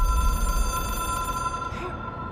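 A telephone, an object of power in the video game Control, rings with a steady electronic tone over a low rumble, fading near the end.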